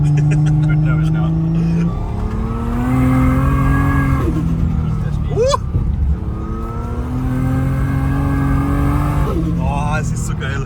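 A Nissan R34 GTR accelerates hard on a snowy road in Finland, its engine note rising through strong harmonic sweeps and shifts, loud and continuous with voices talking over it throughout.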